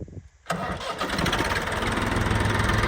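A Tafe 45DI two-wheel-drive tractor engine cranks and catches after a brief quiet moment, then settles into a loud, steady diesel clatter close by.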